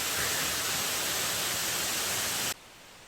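Bulil Waterfall on Jirisan, a 60 m mountain falls, pours as a dense, even hiss of falling water that holds steady and then drops abruptly to a quieter wash.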